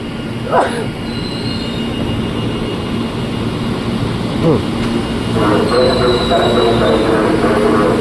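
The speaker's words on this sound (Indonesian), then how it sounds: "ada komuter tujuan Tanah Abang nih dari Rangkas Bitung 20469" A KRL commuter train from Rangkasbitung pulls into Tanah Abang station in the morning, with rolling wheel rumble and repeated high metallic squeals of the wheels growing louder as it nears.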